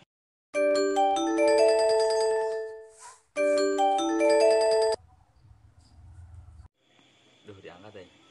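A phone ringtone plays loud and alone in two long melodic bursts with a short gap, then stops as a call connects and faint talk and breathing follow.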